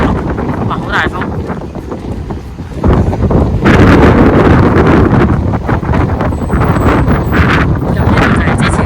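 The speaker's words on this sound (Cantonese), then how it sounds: "哇好大風" Strong wind buffets the microphone outdoors along a road near the Liantang port in Shenzhen, a loud roaring rumble that swells sharply after a few seconds and stays heavy, with faint street sounds behind it.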